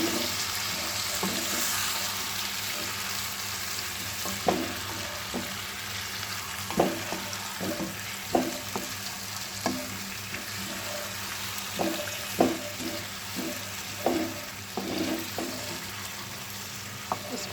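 Marinated chicken frying in a pot for Bombay biryani, a steady sizzle broken by repeated clinks and scrapes of a spoon stirring, close and moderately loud with no talking.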